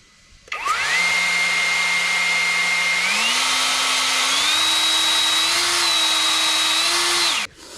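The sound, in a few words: MAXPEEDINGRODS cordless leaf blower running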